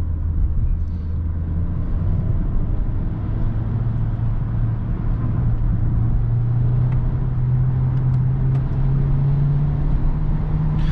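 Steady low engine drone and road rumble from a Volkswagen Passat with a 1.4 TSI 125 hp engine driving a narrow single-lane village road at night, loud and continuous with the pitch slowly rising as it pulls harder.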